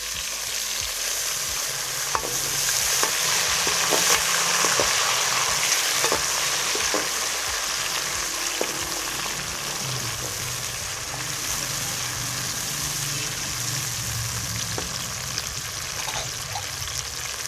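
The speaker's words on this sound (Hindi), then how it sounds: "अदरक शामिल करेंगे, जो मैंने बारीक चॉप किया हुआ था, और साथ ही इसमें टमाटर ऐड करेंगे।" Finely chopped ginger and tomatoes fry in a pan for a vegetable pulao, giving a loud, steady sizzle with scattered crackles and occasional stirring clinks, close up and with no talking.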